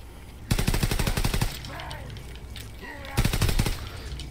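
Rapid pistol fire in the Call of Duty WWII Zombies video game: two quick strings of close, sharp shots separated by a gap with faint game sounds.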